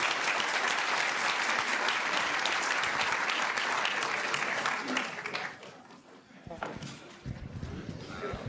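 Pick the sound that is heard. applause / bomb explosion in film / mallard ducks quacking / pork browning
applause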